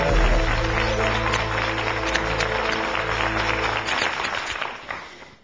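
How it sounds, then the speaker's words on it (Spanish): Studio audience applause welcoming a contestant on the Spanish TV quiz show ¿Quién quiere ser millonario?, a dense steady clatter over a low sustained musical tone, holding for about four seconds before thinning and fading out. "al que recibimos con un fortísimo aplauso."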